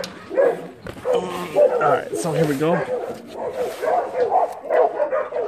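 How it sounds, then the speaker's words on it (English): Several dogs bark and yip in the background, scattered barks rising repeatedly under someone talking nearby at night, while a bright flashlight is used around a motorcycle. "So we got dogs everywhere."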